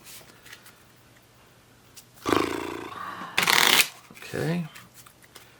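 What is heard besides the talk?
shuffling a deck of cards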